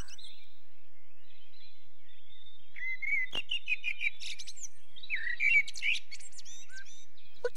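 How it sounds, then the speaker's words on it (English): Small songbird chirping and warbling outdoors, bursts of bright tweets and trills after a quiet start, fairly near and clear, no voices over it. "Listen to that lovely bird."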